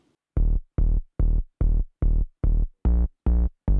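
Deep Serum sub-bass synth notes pulse in a steady rhythm, nine short punchy hits in a row, loud and alone with no voices.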